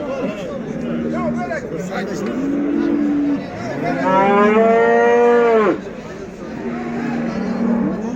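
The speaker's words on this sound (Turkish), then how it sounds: "Burada buzağlı inekler var" Cattle low at a livestock market in Göksun, with a young bull among them: several long, deep moos follow one another, one loud and drawn out in the middle, over a busy background of crowd chatter.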